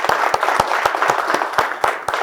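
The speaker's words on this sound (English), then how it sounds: "let's give Ms. Turner a round of applause" Audience applause at a High Point University talk for speaker Dee Ann Turner: a dense, steady wash of many hands clapping at close range, with a few sharper individual claps standing out, continuing throughout.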